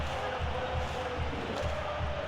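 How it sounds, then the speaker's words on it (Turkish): Stadium crowd noise from a Trabzonspor versus Beşiktaş derby in the PES 2013 football video game, a steady, loud wall of chanting and cheering that holds for the whole stretch. "Tribünlerde coşkulu tezahüratlar var."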